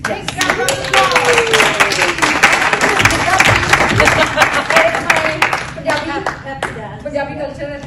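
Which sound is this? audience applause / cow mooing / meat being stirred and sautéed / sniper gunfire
audience applause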